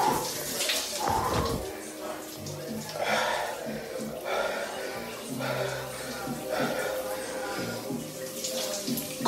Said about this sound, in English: Cold shower routine, baby.